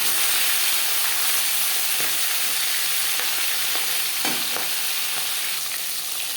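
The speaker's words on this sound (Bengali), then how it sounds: "মাছ একটা সাইড ভাজা হয়ে গেলে অপর সাইডটা উল্টে দেবো।" Bhola bhetki, a soft sea fish, frying in a pan until reddish, a steady close sizzle with occasional spatters and the scrape of stirring, and no voices.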